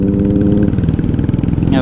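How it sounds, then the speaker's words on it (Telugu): A Benelli 600i motorcycle with an Eagle Scream aftermarket exhaust idles with a deep, loping exhaust burble, heard close up beneath someone talking over it. "ఈగిల్ స్క్రీమ్ ఎగ్జాస్ట్ వేసిండు."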